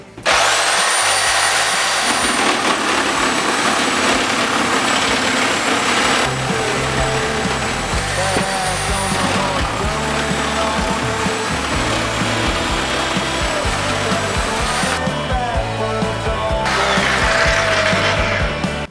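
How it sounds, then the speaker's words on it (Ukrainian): A reciprocating saw, a powerful Dnipro-M model, runs continuously at full speed, a loud, harsh whine with a buzzing chatter as it chews through a thick 100 by 100 timber beam. "Вражає такої швидкості різу я ні в одній шабельній пилі взагалі не зустрічав"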